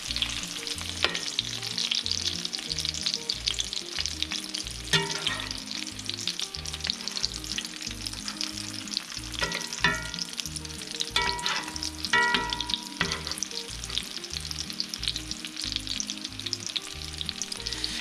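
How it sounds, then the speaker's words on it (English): Chicken breasts pan-frying for a crispy crust before baking in a chicken Parmesan dish, a steady loud sizzle throughout with intermittent crackles and pops, no talking. "This is just to get the crispy crust on the outside."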